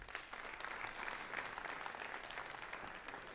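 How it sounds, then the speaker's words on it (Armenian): A studio audience in a hall claps together, continuous and fairly faint, a sustained even patter of many hands with no talk over it. "ծափերով հասկանանք"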